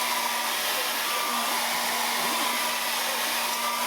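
A hair dryer blows continuously and loudly with a steady whine, heating a PS3 console being repaired for the yellow light of death.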